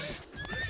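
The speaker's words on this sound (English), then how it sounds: "The faithful horse brought the real bride." Horse neighing loudly alongside clip-clopping hooves in a short, close, energetic burst, set in an animated Tangled adventure scene.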